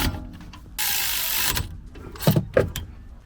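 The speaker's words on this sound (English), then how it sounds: "Torque wrench again with this one, for whatever reason, 23 Newton meters." A torque wrench ratchets and clicks as brake caliper bolts are tightened to 23 Nm on a Seat during a front and rear pad and disc job; a burst of broadband hiss is followed by two sharp, close metallic clicks.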